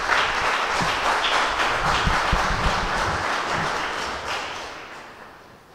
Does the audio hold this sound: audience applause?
yes